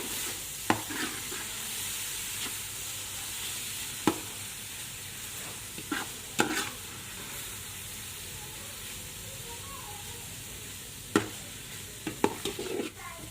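Carrot halwa with khoya being stirred in a pan over low heat: soft continuous sizzle with intermittent scraping and clinking spoon strokes against the pan, quiet and close.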